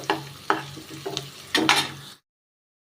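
Ginger garlic paste with a pinch of turmeric frying in hot oil, heard as a steady light sizzle broken by several sharp stirring scrapes about every half second before cutting off abruptly.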